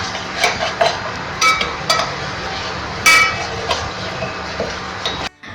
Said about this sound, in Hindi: चीनी को आप इसमें अच्छी तरह मिक्स करें।